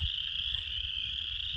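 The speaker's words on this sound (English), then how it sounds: "That's a lot of frogs." A dense chorus of many frogs croaking outdoors in Indiana, a steady high trilling drone layered over low pulsing croaks, continuous and fairly loud with no talk.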